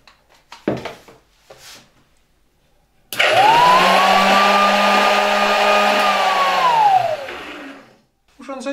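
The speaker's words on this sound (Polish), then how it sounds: "jeżeli spróbuję uruchomić odkurzacz." An old Polish Skrzat vacuum cleaner from W.Z.S.E. Warszawa starts with a sharp rising whine, then runs loud and steady for about four seconds before winding down. A few handling clicks and bumps come before it.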